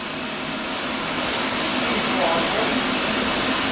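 Fans run in a workshop while an off-road vehicle is being built, a loud, steady whooshing drone with no breaks.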